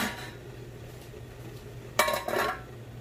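Metal pot lid set back down on a pot of boiling beef bone soup, one short clatter and clink up close over a steady low bubbling hum.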